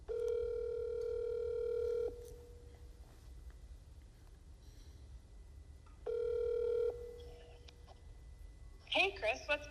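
Telephone ringback tone during an outgoing phone call, two long, steady tone bursts separated by a silent gap, followed by a brief voice at the end.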